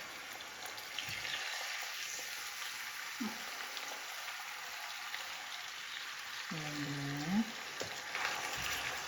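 Chicken rice molds fry in a pan with a steady, faint, close sizzle, joined by a few soft clinks and scrapes of a utensil.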